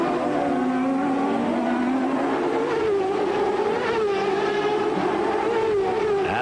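IndyCar race cars at the 1997 Sunbelt IndyCarnival running in a tight pack, several engines whining together with rising and falling pitch, loud and continuous.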